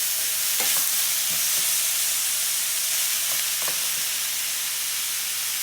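Jalapeno and regular peppers fry and caramelize in a hot pan, giving a loud, unbroken sizzling hiss with a few soft clicks and scrapes from stirring.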